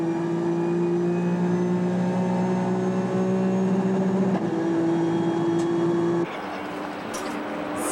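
A Nissan Skyline R33 race car runs at full throttle at Suzuka in a 1995 JGTC race, its loud, steady engine drone holding pitch, then stepping at two gear changes, with no voices.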